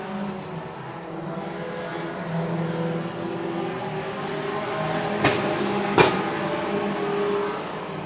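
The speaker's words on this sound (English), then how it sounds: "As the Top Stars starting to navigate the lap traffic safely around Millie Fairbrass and coming up on the" Junior sedan race cars on a circuit, engines droning and whirring at close range with two sharp bursts partway through, a continuous mechanical roar with no talk.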